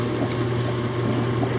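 Pumps and screw on a new HWZ 250 mixer run steadily, giving a continuous mechanical hum and rushing water-like drone that stays even and fairly loud throughout.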